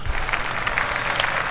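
A small group claps on a podcast, brief, scattered applause that is moderately loud and close, lasting under two seconds.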